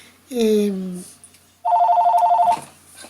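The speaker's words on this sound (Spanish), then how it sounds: "es el teléfono de la casa que me sonó" A home landline telephone gives one clear electronic ring, a rapid warbling trill lasting about a second, after a person speaks briefly.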